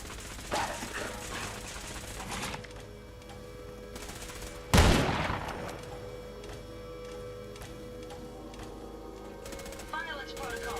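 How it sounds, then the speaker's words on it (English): Gatling laser fire and other gunfire in the video game Fallout 4, with rapid bursts of shots through the clip, a sharp loud blast near the middle, and game sounds running under speech. "I'm not a fan of how that Gatling laser is turning out."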